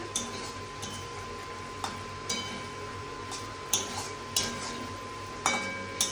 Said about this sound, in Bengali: এইভাবে বেশ ভালো করে কষে নিতে হবে একটু।